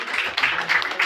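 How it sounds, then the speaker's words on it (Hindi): Audience applause at a university event welcoming a guest to a three-day national painting workshop, a steady wash of clapping from a crowd, fairly close and continuous. "जोरदार तालियां बेटा"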